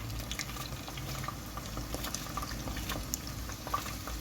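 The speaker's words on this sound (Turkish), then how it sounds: "çorbamız orada kaynıyor" A pot of soup bubbles steadily at a gentle boil, with small pops and gurgles close by, no voices.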